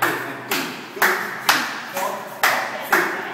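Women seated clapping their hands in steady time during a Joget Cok Kelebang dance class, seven sharp, evenly spaced claps about half a second apart, fairly close and distinct against a quiet room.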